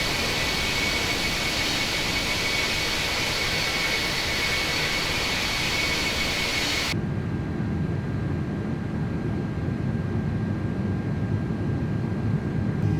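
Airliner jet engines roar loud and steady through a takeoff climb in Microsoft Flight Simulator, then the tone abruptly thins and dulls partway through as the thrust continues without pause.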